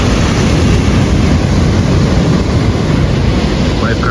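Loud, constant rumble and wash of small ocean waves at Cabrillo Beach in San Pedro, with heavy wind buffeting the microphone and a faint voice near the end.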